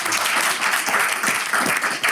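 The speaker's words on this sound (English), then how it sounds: "can we just give a round of applause to everybody who came in here" A crowd at a Savannah State behavior analysis program's 20th-anniversary celebration applauds everyone who came and helped out, a dense, steady wash of many hands clapping close and loud for about two seconds.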